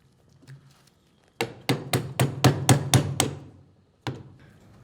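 A metal punch taps a square key into the keyway of a valve shaft with about eight quick, evenly spaced hammer strikes, then a single final tap, close and clear.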